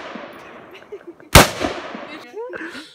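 A single loud, sharp gunshot cracks out close by in the middle, cutting through ongoing voices and chatter, with people still talking before and after the blast.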